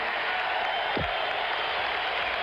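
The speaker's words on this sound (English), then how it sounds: "You can hear the crowd in the Memorial Coliseum" A crowd in the Memorial Coliseum at a basketball game roars and applauds as a dense, constant wash of noise, loud and unbroken throughout.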